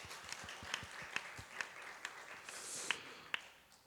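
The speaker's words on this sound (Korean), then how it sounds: "우리 박수 한번 할까요?" A church congregation claps briefly to welcome a newly registered young member, the applause faint and distant, with a few distinct hand claps standing out over soft room noise.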